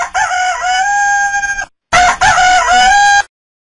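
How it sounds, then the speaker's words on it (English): A rooster crows loudly and close, two long cock-a-doodle-doo calls separated by a brief pause, then silence. "Rooster."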